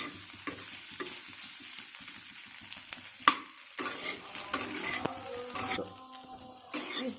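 Capsicum and egg fry sizzles in a pan while a spatula stirs and scrapes through it in irregular strokes, with one sharper clack partway through; no talking.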